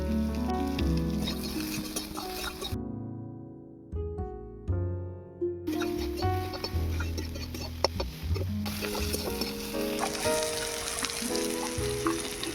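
Bitter gourd sizzles loudly in hot oil while it is stirred with salt. Scraping utensil strokes and crackling pops run throughout, with a short quieter gap partway through.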